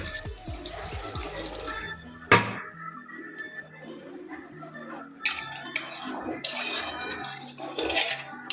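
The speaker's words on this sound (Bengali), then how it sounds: "এবারে জল দিয়ে দিচ্ছি।" Water goes into a pan of cooked-down omelette curry masala amid clattering pots and utensils, with short splashy pouring and sink-like running water between sharp metallic knocks.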